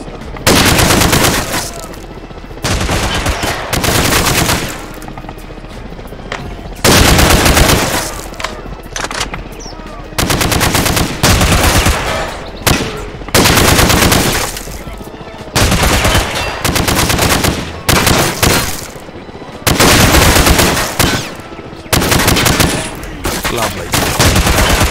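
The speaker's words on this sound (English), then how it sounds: "Now aim your rifle down the range. Now, shoot each target while aiming down the sights" Rifle shots ring out at a firing range in a Call of Duty WW3 mod, loud repeated bursts of gunfire in irregular clusters across the whole stretch with brief gaps between volleys, no talking.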